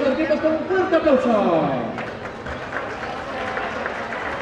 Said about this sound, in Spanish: para que por favor recibamos a los equipos con un fuerte aplauso